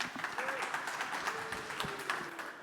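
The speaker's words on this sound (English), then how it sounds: "So please give a big round of applause," Conference audience at a security talk applauding a speaker onto the stage, a moderate, fairly distant patter of clapping with a voice or two briefly rising through it.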